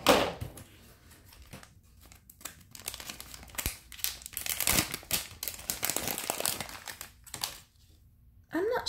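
Plastic packaging on a Series 4 Trolls toy is cut open at a corner, giving close crinkling and snipping in uneven bursts with short quiet gaps.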